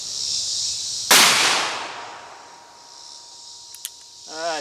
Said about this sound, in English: Let's just take a shot at the playing card.